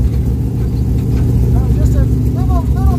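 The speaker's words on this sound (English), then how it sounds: "I can honestly say I've probably never been in a car that launched this hard." A race car launches hard on a nitrous shot, its engine roaring loud and steady throughout from inside the cabin, with excited voices speaking over the noise.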